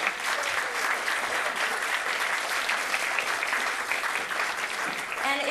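A concert band audience gives a hearty, sustained round of applause to greet the artistic director and conductor, Bruce Bailey, a dense steady wash of clapping from a large crowd, alone throughout.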